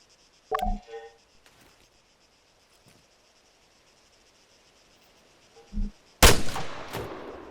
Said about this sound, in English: When you're ready, put some rounds down range.